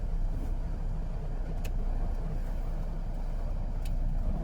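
A car drives along with a low, steady engine and road rumble at moderate distance, continuous throughout, with two faint sharp ticks standing out briefly.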